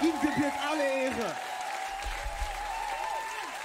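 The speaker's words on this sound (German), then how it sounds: "Come on, lass uns Jesus einen Applaus geben." A live worship concert audience claps and cheers in a sustained burst of applause in a large hall while a voice talks over it and sustained music or singing carries on in the background.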